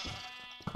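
Sheep bleat in the Sheep Quest video game, a short faint bleat under a bright ringing game tone, with a louder burst of sound near the end.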